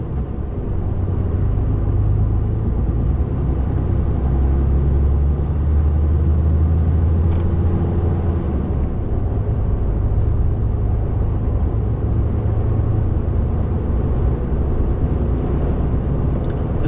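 A delivery vehicle cruises along a quiet countryside road, giving off a constant low engine rumble and road noise that stays steady and close throughout without any talking.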